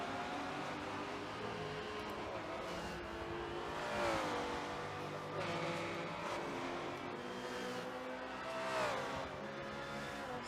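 A video game GT1 championship race at the Nurburgring, with a Maserati MC12 among the cars, gives a constant loud engine drone with rising and falling revs as gears shift. Several cars can be heard together.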